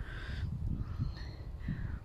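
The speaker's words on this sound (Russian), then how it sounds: "У нас вороны тут сегодня что-то весь день." Crows cawing outdoors on a rural plot being worked, a few harsh calls at a moderate distance over steady low background noise.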